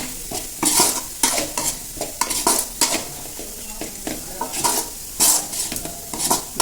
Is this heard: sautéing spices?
yes